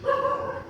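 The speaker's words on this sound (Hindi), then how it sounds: "अभी सामने घर पे कुत्ता भौंक रहा है" A dog barks from a house across the street, a single short tonal bark heard on its own at moderate distance.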